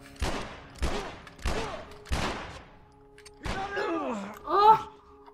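Gunshots in the video game The Last of Us, four loud, evenly spaced blasts with ringing tails, followed by a fifth shot and a groaning, pained voice.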